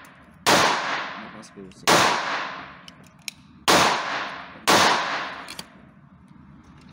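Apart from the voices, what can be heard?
9 mm gunshots at a shooting range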